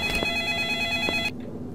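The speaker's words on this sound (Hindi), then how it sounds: "यहाँ से फोन बज रहा है।" A telephone rings in the horror video game Find Me, a bright electronic ring that sustains with a couple of accented pulses, then cuts off abruptly into near silence.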